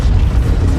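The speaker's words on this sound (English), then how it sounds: "First, the firestorm from the cannon." A heavy cannon blast in the video game Battlefield 1, a loud, deep booming explosion filling the short moment at close range with no voices.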